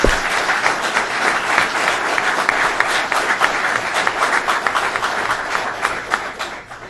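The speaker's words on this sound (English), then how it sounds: "Let's give him a round of applause." A crowd gathered for a governor's flood recovery event in New Hartford gives the county executive a steady round of applause, many hands clapping at moderate loudness and tapering off near the end.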